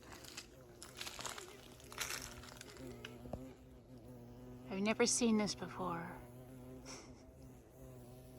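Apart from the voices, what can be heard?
bee buzzing, a boring bee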